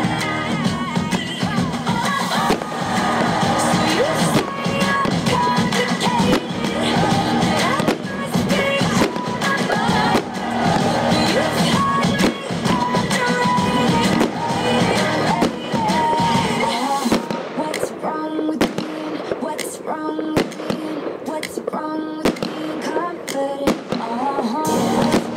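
Garden Surprise 25 mm caliber fireworks shells launch in a dense, loud rapid barrage of cracks and bursts, thinning into scattered separate pops near the end.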